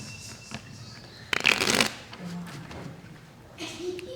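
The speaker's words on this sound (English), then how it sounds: "Let me shuffle once more." A deck of playing cards is shuffled once in a quick riffle of about half a second, close and clear, between quiet stretches of room noise.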